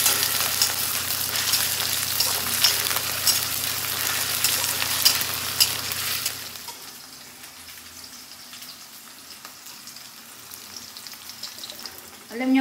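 Ingredients sizzle and crackle in a frying pan as they are stirred, loud and busy for about six seconds, then the sizzle drops to a faint hiss with a few soft clinks.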